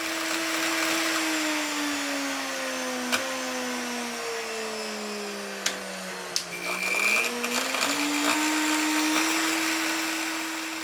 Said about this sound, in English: And I know the sound, it's worn brushes.